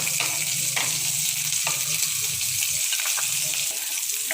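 Butter melts in a hot pan for a white Italian pasta sauce, giving a steady close sizzle and hiss with a few soft scraping and stirring touches and no talking.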